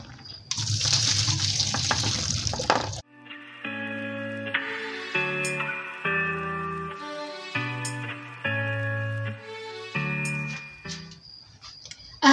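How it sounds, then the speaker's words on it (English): Water from boiled potatoes strained out in a home kitchen: a broad rush of pouring water for about three seconds, then clanking pot sounds and melodic tones, with no talk. "So I am going to strain the water and put the potatoes back"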